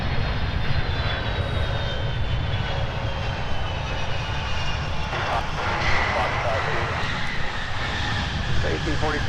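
Airliner at Minneapolis airport departing on runway 17, a steady loud engine roar that continues throughout, while radio talk is heard over it.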